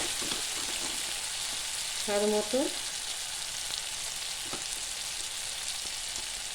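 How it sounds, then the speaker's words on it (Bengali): Tomatoes fry in a pan with a steady, moderate sizzle, and someone speaks briefly over it. "এটা একটু ভালো করে ভেজে নেব"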